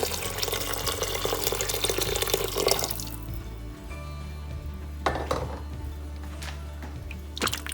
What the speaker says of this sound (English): Now adding hot water.